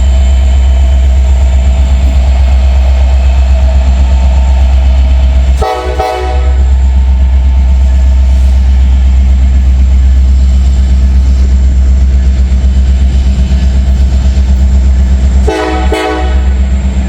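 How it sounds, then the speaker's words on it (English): An EMD diesel locomotive engine rumbles loud and steady at close range, a deep throbbing drone, broken twice by short blasts of the train horn. "That old EMD rumble."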